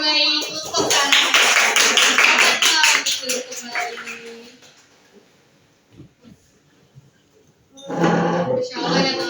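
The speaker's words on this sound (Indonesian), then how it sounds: "Kita berikan tepuk tangan terbaik untuk Kak Rahel" Audience at a motivational talk clapping for a speaker, a loud dense burst of applause that fades out over several seconds, followed by a quiet gap and a second short round of claps.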